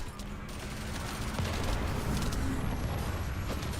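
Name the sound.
explosions and gunfire in The First Descendant video game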